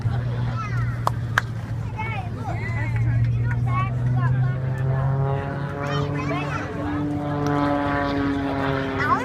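Propeller aerobatic airplane flown by Sean Tucker at the 2014 Great Tennessee Air Show, pulling a tight inside loop: a steady droning engine note that rises and falls in pitch as the plane climbs and dives, with crowd murmur underneath.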